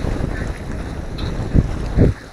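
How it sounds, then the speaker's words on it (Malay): Strong wind roars and buffets the microphone at sea near fishing platforms off Pulau Aman, Penang, during a storm, with louder gusts thumping near the end. "Angin tentang lah."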